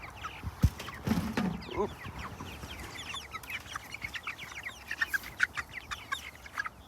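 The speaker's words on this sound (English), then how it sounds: "So here we have the hens." Five-week-old hens cluck softly and intermittently over a busy outdoor background, with a few sharper calls and brief low thumps early on.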